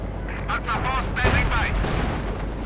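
Tank and gun fire in the real-time strategy game Company of Heroes 2, a steady rumble of artillery and gunfire with short bursts, heard under a commentator's voice.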